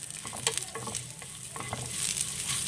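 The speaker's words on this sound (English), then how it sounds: "Okay, and then give it a good mix." A pinch of asafoetida powder stirred in hot oil for yogurt rice, with a steady sizzle and intermittent scraping of the spoon against the pan, close and alone without voices.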